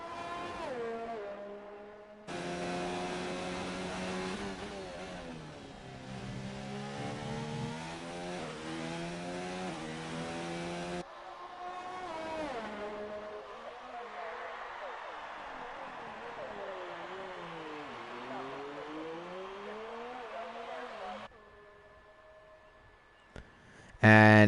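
Formula race car engine in a video game, the Canadian Grand Prix circuit, revving hard through gear shifts with rising and falling whine, loud and continuous, with a commentator talking over it.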